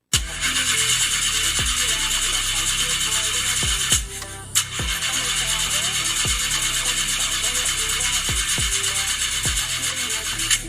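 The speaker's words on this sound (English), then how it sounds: "Oh, not again, man, not again. Chaja, I got to get this engine fixed." Car engine cranking but failing to start, a harsh continuous grinding whir with brief dropouts and repeated low thumps, loud and close, cut off near the end.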